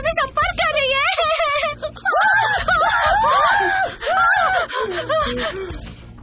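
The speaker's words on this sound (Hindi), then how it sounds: "क्यों चिल्ला रहे हो?" A person screams loudly in a Korean horror drama scene, long shrill cries that waver and break, with gasps and strained breaths between bursts.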